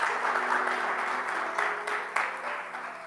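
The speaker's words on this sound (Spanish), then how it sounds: "denle un aplauso al Señor" A congregation at a prayer meeting applauds steadily for a few seconds, the clapping dense and even before tapering slightly at the end.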